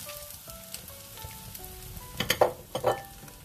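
Bok choy stir-frying for village-style fried rice with belacan, a steady soft sizzle joined by a few sharper clattering stirs near the end, close and moderately loud, with no talking.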